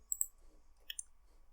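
Quiet computer mouse clicks made while working through a translation program's drop-down file menu, heard as two brief double-clicks about a second apart over a faint background hum.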